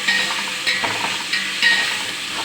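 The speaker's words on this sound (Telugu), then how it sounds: "ఉల్లిపాయ ముక్కల తర్వాత వేసి శుభ్రంగా వేయించుకొని మరీ గోల్డెన్ కలర్ రావక్కర్లేదు, కొంచెం పచ్చివాసన పోయే వరకు వేయించుకొని" Chopped onion pieces frying in a pan for coconut milk biryani, a steady bright sizzle with a few louder stirring scrapes at regular intervals, close and without talk.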